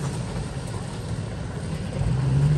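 A truck engine drones steadily and low while off-roading, with a rumbling, rising surge toward the end and no talk.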